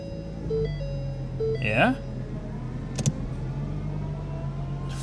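A Mercedes S550 idling with a steady low engine hum as it shifts into gear, with a brief electric whine and a short clunk, while a person speaks briefly nearby.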